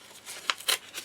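Patterned card paper torn by hand for bunny cards gives a quick series of short, close ripping sounds in a quiet room.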